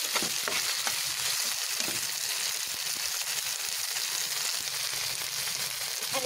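Ground peanut paste is stirred into a frying chicken soup base, giving a dense, steady hiss of sizzling oil with brief scraping and clatter from the spoon, close and without talk.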